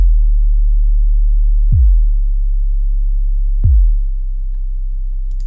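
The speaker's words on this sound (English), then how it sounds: "That's pretty much the whole bass throughout the whole song" Deep, sustained low dubstep bass tone droning steadily, with two brief pitch drops a couple of seconds apart; nothing else over it.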